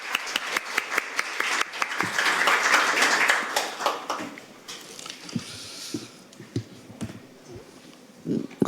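An audience at a Korean National Assembly emergency-medical debate applauds a guest association president. Dense clapping swells, peaks and then thins into scattered claps and shuffling, with brief voices near the end.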